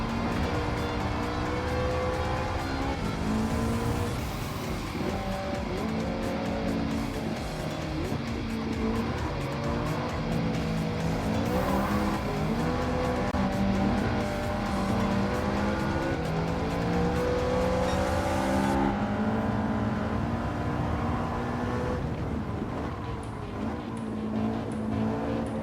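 A race car in Gran Turismo 7 roars continuously with rising and falling engine revs and squealing tires through turns, loud and close throughout.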